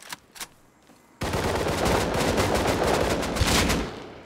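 An AK rifle fires in a video game: a few faint distant shots are followed by a sudden, loud, sustained burst of rapid automatic gunfire that holds steady before tapering off.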